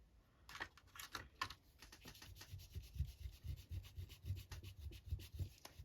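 A paper envelope being rubbed to remove an ink smudge: quiet, repeated short scrubbing strokes in an uneven rhythm, close up, with no speech.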